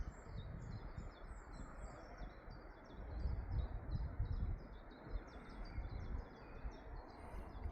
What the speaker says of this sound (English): Just listening to the birds a second.